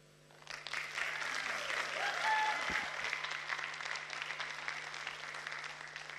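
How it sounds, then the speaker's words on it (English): Audience applause at a climate summit for youth speakers rises quickly after a quiet start and then holds steady at a moderate level, with a faint low hum underneath. "thank you to everyone for giving them a huge round of applause."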